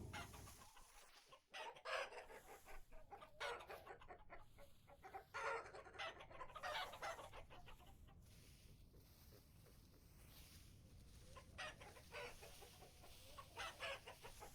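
Chickens and roosters in the video game Vintage Story cluck and crow in a busy barnyard mix, with repeated bursts of clucking and a crow rising and fading at a moderate distance, no voices.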